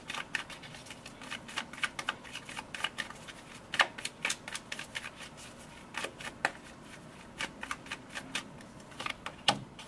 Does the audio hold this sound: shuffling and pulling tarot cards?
yes